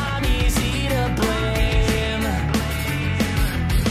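A song by a band plays, a dense full-band mix with steady beat and sustained melodic layers, loud and continuous with no voice speaking over it.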